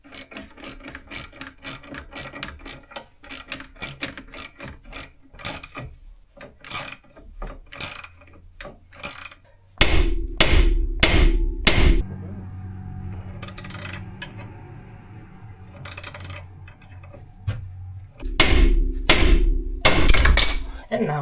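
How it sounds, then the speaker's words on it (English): A hammer strikes a steel ball joint splitter on an Alfa Romeo 156 front suspension, giving a series of sharp metallic clanks, then quieter scraping and tool-turning sounds before more heavy hits. "I turn it a couple of rounds and then hit it with a hammer and then continue until this lets go."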